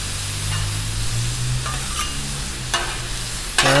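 Steak for tacos sizzles steadily on a 36-inch Blackstone griddle, a continuous close hiss with a few sharper crackles and scraping stirs toward the end.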